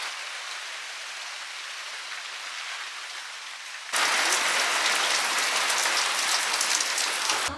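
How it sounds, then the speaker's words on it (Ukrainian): Steady rain patters on a surface outside a village house, a dense hiss that suddenly grows louder and brighter halfway through, continuing without voices. "На вулиці вже почався дощик"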